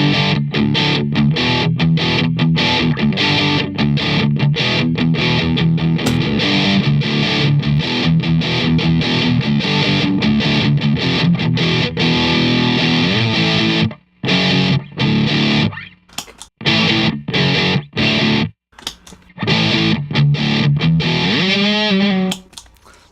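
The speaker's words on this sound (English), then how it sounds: "It's probably my favorite pedal, this booster." Electric guitar played through a booster pedal, dense and driven with a distorted, effects-laden tone, sustained chords ringing steadily before breaking into choppy stabs with brief gaps near the end.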